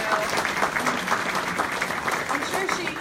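An audience applauds at a community meeting on fracking in the Fox Chapel area, steady clapping from a moderate-sized crowd filling the room.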